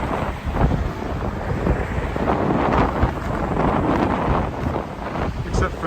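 Strong cold wind buffets the microphone outdoors downtown in winter after a blizzard, a loud continuous roaring rumble with gusty swells that persists throughout.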